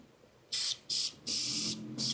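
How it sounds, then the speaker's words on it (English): Four sharp bursts of silicone lubricant aerosol spray hiss in quick succession, close and fairly loud, separated by short pauses, during a water pump replacement on a 2021 Genesis G70 3.3. "Spray some silicone."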